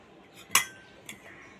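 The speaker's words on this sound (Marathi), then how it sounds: "मी आता पातेला खाली ठेवली आहे" A metal pot (patela) of freshly cooked khichdi is set down in a kitchen, giving a sharp metallic clink followed by a second lighter clink about half a second later.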